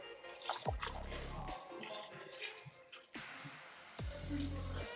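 Water glugs and splashes in two bursts, with a gurgling pour through a funnel into a Nissan Skyline R33 GTR radiator, a pause, then another pour, close by.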